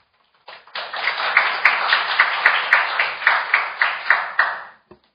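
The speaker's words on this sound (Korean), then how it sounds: "박수로 발표를 청하도록 하겠습니다" Audience applause welcoming a presenter at a Korean seminar on comfort-women records; steady clapping from a crowd builds quickly, holds for about four seconds with rhythmic peaks, then fades out.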